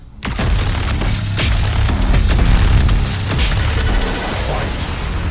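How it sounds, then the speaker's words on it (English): A frag grenade explodes in the video game DOOM Eternal, loud booming blasts and crashing debris rolling continuously amid dense gunfire-like combat noise, with no pause. "The frag grenade explosion is larger."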